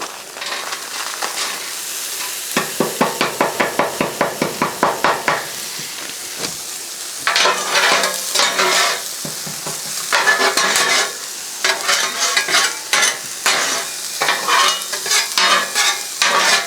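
Vegetables and onions fry on a Blackstone griddle for pork fried rice, with a steady sizzle broken by a quick run of rhythmic spatula taps, then louder bursts of scraping and tossing, close up and without talk.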